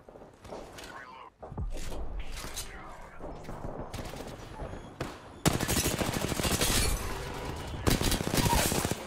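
Video game gunfire in close sustained bursts and rapid automatic volleys, with footsteps between them and game voices speaking over parts of the firefight.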